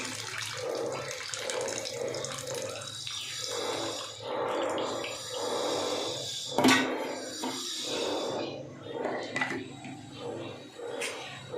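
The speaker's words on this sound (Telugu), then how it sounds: "చింతపండు పులుసు వేసుకుంటున్నాను." Tamarind extract is poured into a rohu fish curry, giving splashing, trickling liquid in short bursts with soft clinks and kitchen noise between them.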